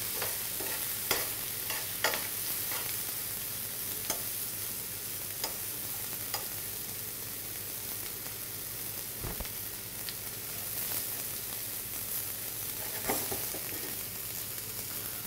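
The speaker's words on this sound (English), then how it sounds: "You can see these onions are just cooking nicely up at the edges there. So let's give that a bit of a stir there." Onions fry in a pan with a faint, steady sizzle while tongs stir and scrape them now and then, producing scattered soft clicks and knocks in a quiet close-up kitchen setting.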